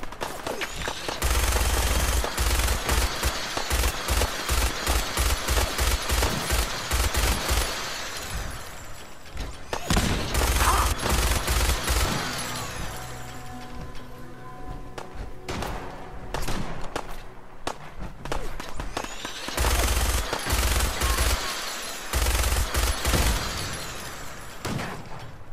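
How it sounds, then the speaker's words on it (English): Gunfire in Fallout 4, with long bursts of rapid automatic fire and scattered single shots, loud and close, broken by brief lulls before the shooting resumes. "Can't tell who's shooting at me."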